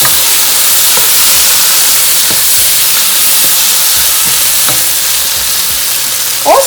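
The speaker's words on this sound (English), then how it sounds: "Give that a good mix." Vegetable biryani with small pieces of green bean stirred in a pot, a loud, constant steamy sizzle and hiss with occasional soft scrapes from the spoon, no voices.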